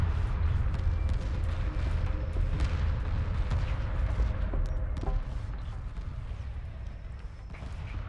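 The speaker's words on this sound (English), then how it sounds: "those missile corvettes just doing so much damage" Missile corvettes fire in a sprawling Homeworld Remastered space battle, producing a steady wash of distant launches and rumbling impacts that fades slightly toward the end, with a commentator talking over it.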